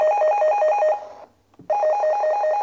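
Network cable tester tracer probe sounding near a cable, a loud steady warbling electronic tone that cuts out briefly, then resumes.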